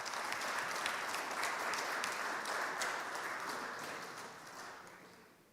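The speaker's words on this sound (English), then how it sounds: "Ladies and gentlemen, again, big round of applause for Elizabeth and Stephen." A conference audience gives the speakers a steady round of applause, a dense, even patter of many hands that holds for several seconds before gradually tapering off.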